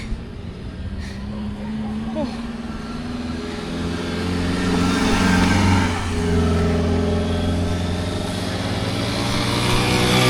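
A motorbike engine drones steadily while riding in rain, its pitch rising slightly midway, with a constant rushing wind noise.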